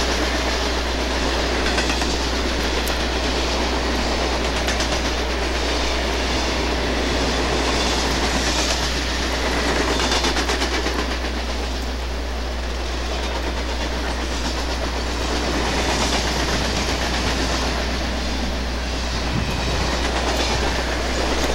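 A long Conrail freight train rumbles past close by in La Porte, Indiana, steady wheel clatter and rail noise continuing without a break for the whole stretch.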